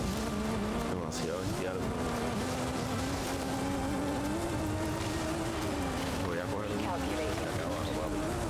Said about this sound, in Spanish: Papi, los sonidos de los carros on point.